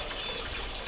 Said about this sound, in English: let this water fill up